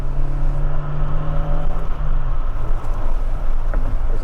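Right-hand drive Honda Civic EG6 SiR on the move, a close, steady engine drone with road and wind noise and a falling engine note early on.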